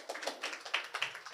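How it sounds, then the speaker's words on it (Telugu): Scattered applause from a church congregation for one of its members, quick light claps close by and fairly faint, lasting only a moment. "ఒకసారి చప్పట్లు కొట్టు మనోడికి."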